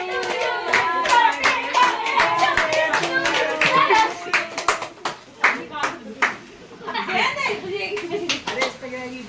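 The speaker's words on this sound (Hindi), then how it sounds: "बजा भाई ताली बजा" At a child's birthday party, a small group claps in irregular bursts close by, with children and adults chatting and laughing over the clapping and brief quiet gaps between rounds.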